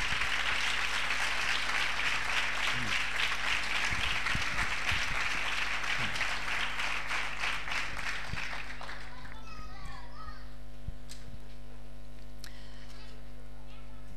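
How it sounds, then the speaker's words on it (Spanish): A church congregation claps loudly and steadily for about eight seconds over a constant low electrical hum, then the clapping ends and scattered voices and a low drone remain. "Vamos a dar un fuerte aplauso a la palabra de Dios."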